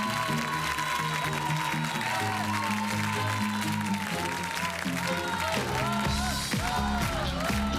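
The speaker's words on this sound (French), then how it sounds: "Merci de l'applaudir" A TV show studio audience applauds the singer in sustained, dense clapping and cheering, with music playing loudly under it throughout.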